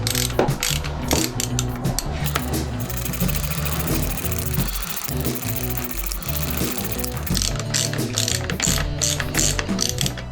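Ratchet clicks rapidly and steadily as a Torx bolt is snugged on a bar end mirror of an S2 Del Mar, close up and continuous, with no talking.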